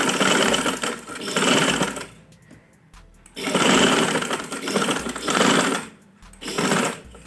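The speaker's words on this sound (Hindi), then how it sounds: "अब हम इस पर एक एक पैर के फासले पे सिलाई लगा देंगे ताकि ये अच्छी तरह मजबूत हो जाए।" A sewing machine runs in several loud bursts of fast stitching with short pauses between them, sewing fabric loops onto a frock; no talking.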